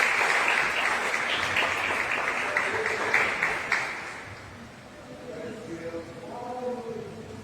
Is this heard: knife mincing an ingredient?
no